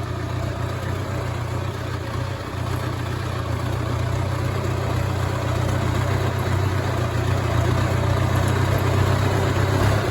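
An engine fitted with an old cherry bomb muffler at a hay-baling job gives a loud, steady, low rumbling drone that holds constant throughout, with no talking.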